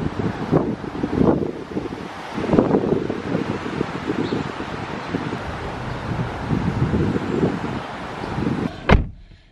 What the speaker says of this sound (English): Now that's windy.